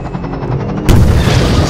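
A nuke detonating close to Combine vehicles in Garry's Mod with a nuclear warfare mod, heard as a sudden loud booming blast that cuts in after a rumbling lead-up and keeps roaring to the end.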